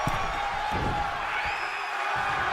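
Crowd cheering in a wrestling arena during a live WWE match, a broad continuous roar with scattered whoops and a few thuds, steady and fairly loud, heard alone without talk.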